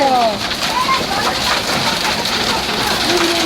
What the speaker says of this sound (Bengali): এই দেখো কত বড় বড় শিল পড়েছে